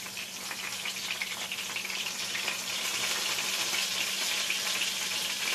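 Sweet potato and black bean burger patties frying in a pan on a medium-high stove, a steady, close hiss and crackle of sizzling oil throughout with no talking.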